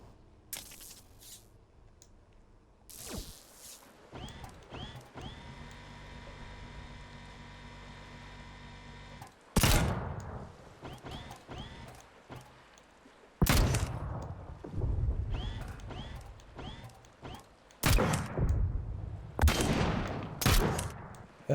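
Cannon artillery built in the video game Trailmakers fires in sharp, booming blasts spaced several seconds apart, each followed by a rattling, mechanical tail between quieter stretches of engine-like hum.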